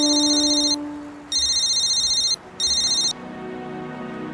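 A telephone rings out during an outgoing call in a Hindi TV drama scene, three bright electronic ringtone bursts separated by short gaps, loud and clear with no talk over them.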